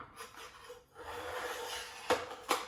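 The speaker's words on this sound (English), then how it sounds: "you can hear every little inch of that sharpening up the blade" Knife blade drawn through an Angle Pro sharpener, soft rasping strokes followed by two sharp scraping passes near the end, quiet and close with no talk.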